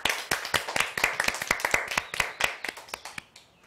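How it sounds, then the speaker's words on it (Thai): Schoolchildren clap their hands in a classroom during a math lesson on division, a quick run of sharp, slightly uneven claps that slows and stops after a few seconds. "ปรบมือกันหน่อย"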